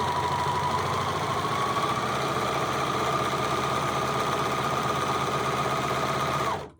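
A serger stitches reusable paper towels with a steady, loud, fast mechanical whir, running continuously up close before stopping abruptly at the end.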